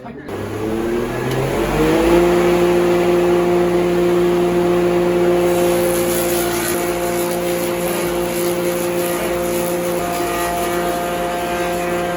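A machine motor carving a wooden clog spins up and settles into a loud, steady whine with a constant tone, running on without pause.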